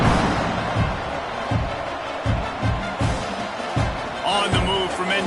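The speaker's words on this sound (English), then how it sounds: "this crowd is buzzing after that last score" Crowd buzzing in a stadium in a 2K football video game after a score, a dense steady roar with rhythmic thumps, while a commentator talks over it.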